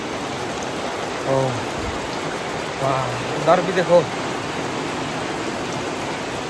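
Heavy morning rain pours in a dry-season setting, a dense steady hiss filling the scene while someone speaks briefly in Hindi over it.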